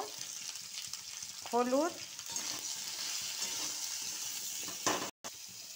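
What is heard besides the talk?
vegetables frying in a pan for lau shak chorchori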